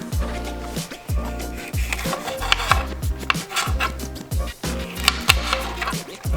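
Habanero peppers being chopped with a knife on a cutting board while preparing spicy pickled quail eggs, a brisk series of close, crisp knife chops with short pauses between bursts.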